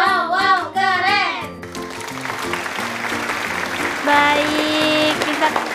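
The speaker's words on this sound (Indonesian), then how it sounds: "kita tepuk tangan" Children clap together in a primary school classroom, a burst of applause that swells after a teacher's voice at the start and carries on steadily to the end, close and fairly loud.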